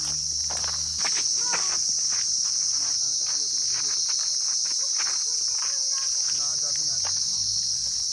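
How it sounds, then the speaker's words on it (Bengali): Crickets chirping in a pine forest at Sittong, Darjeeling, a loud continuous high buzzing chorus with soft footsteps and rustling nearby. "ঝিঝি পোকার মতো আওয়াজ।"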